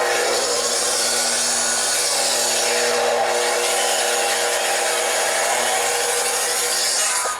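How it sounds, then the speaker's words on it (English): A power saw cuts steadily through timber on a 1988 building job, a loud continuous rasping roar that holds from start to finish with no talk over it. "That's quite a saw you've got there."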